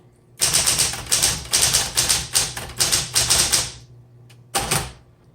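A 1960s Smith Corona Automatic 10 manual typewriter in spring green clatters through rapid runs of crisp keystrokes, grouped in rhythmic bursts, then falls quiet before one last separate clack.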